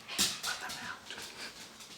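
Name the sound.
dogs running through the house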